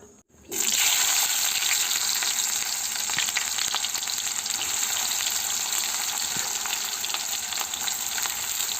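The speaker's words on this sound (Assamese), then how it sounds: "এইফালে কেৰাহী গৰম হৈছে মই এতিয়া তেল ঢালি দিম" Oil poured into a hot karahi before cooking meat sizzles loudly. It starts abruptly and holds a steady, dense hiss close by with no one talking.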